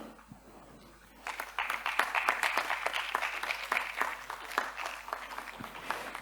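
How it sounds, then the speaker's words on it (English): An audience at a Malaysian investment roadshow breaks into applause to welcome a speaker. After a quiet start, steady clapping from a sizeable crowd builds and holds, dense and moderately loud. "Can give a stronger clap?"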